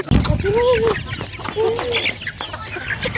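A flock of chickens clucks and calls near and far in a rural Bisaya setting, several overlapping clucks with a person talking among them.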